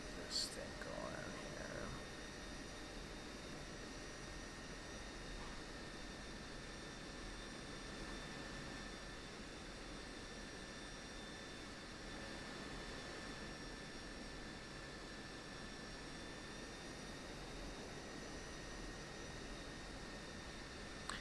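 An F-16 Viper jet engine whines and roars steadily while taxiing in the flight simulator DCS World, a constant high-pitched turbine hum with broadband rush, fairly quiet and unbroken.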